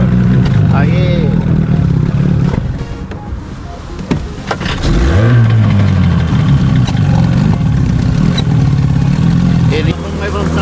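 A 25 HP engine runs loud and close, rising in a clear rev before settling to a rough steady drone, with voices talking over it.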